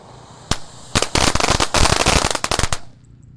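A 3-inch conical fountain firework goes off outdoors in a loud burst of sharp crackles and pops, starting with a single bang and building into rapid, dense cracking before cutting off.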